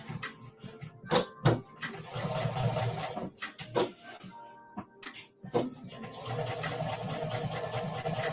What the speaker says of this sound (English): And I'm gonna just do a stitch down the bottom.